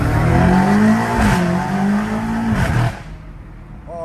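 Catless BMW M5 Competition pulling hard in third gear, its harsh raspy exhaust rising in pitch through a brief shift-like dip, then cutting off abruptly to quiet rumble; loud and close, no talk.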